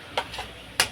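Country chicken curry frying in a pan, with a low steady sizzle broken by two or three sharp scraping stirs of a spoon against the pan, close and alone.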